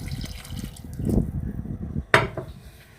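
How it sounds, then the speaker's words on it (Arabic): Milk, half a kilo, poured into a bowl of dough ingredients, giving a soft liquid gush near the start followed by a brief clink of utensils, close by and without speech. "ادي اللبن، نص كيلو اللبن اهو"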